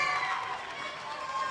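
A school assembly audience in a middle school gym gives faint, distant applause during a golf putting game, a steady wash of clapping and crowd noise with no clear single claps.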